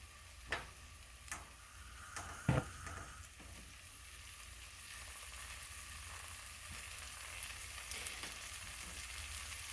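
Teriyaki chicken browning in a pan, a soft steady sizzle with a few clicks and taps of utensils early on, fairly quiet and with no talking.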